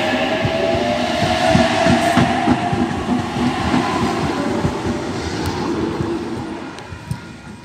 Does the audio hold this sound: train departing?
yes